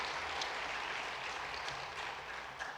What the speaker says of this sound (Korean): 잠깐 자리에서 일어나시면 큰 박수로 격려하겠습니다